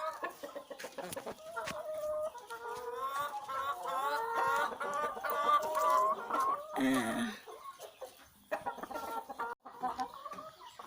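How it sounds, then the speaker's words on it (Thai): Several penned roosters on a farm cluck and call in busy overlapping bursts, with a strained crow rising near the middle, close and fairly loud. "นี่นะคะจะเป็นไก่ตัวผู้ ที่เราแยกไว้ แยกสุ่มไว้นะคะ"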